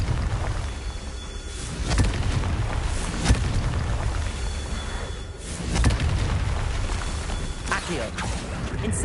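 Repeated booming blasts of the Confringo spell in Hogwarts Legacy, several heavy bursts rumbling over dense, continuous game noise with some speech mixed in.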